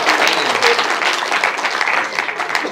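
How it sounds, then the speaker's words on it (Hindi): An audience at a Hindi kavi sammelan claps steadily, a dense wash of applause that holds loud and even throughout, with faint voices mixed in. "तालियां बजा दो"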